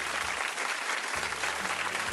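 A studio audience on a cooking show applauds steadily to welcome a guest, a dense, even clapping wash that continues without a break.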